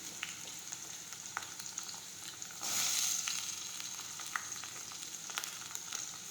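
Chopped onions and tomatoes frying in a pan for urad dal, a steady low sizzle with scattered small pops and a brief louder hiss surge midway, no voices.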